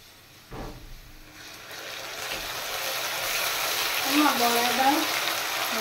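Paste of onion, garlic, ginger and green chili hitting hot oil in a pan, a thump followed by a rising, steady sizzle that grows louder and stays close, with brief voices underneath.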